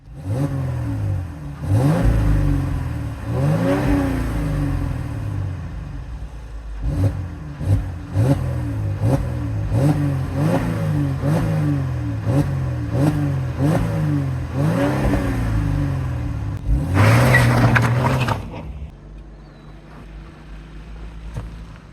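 A Mercedes-Benz car pulls hard under acceleration, its engine revving up through repeated paddle-shifted gears in a rhythmic rise-and-drop pattern, loud and close with wind noise, before easing off near the end.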